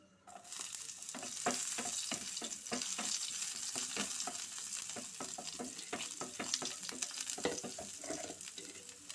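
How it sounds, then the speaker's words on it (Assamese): Onion sizzling steadily in hot mustard oil in a pan, a loud continuous fry broken by repeated stirring scrapes and clicks throughout, with no talking. "এতিয়া ইফালে পেনখন বহাই দিছোঁ আৰু মিঠাতেল দিছোঁ। মছলাখিনি আগতে ভুনি লওঁ, পিঁয়াজ দিছোঁ।"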